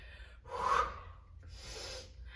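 Two deep, audible breaths during a dumbbell exercise, a sharp inhale followed by a long exhale, close and fairly quiet with no talking.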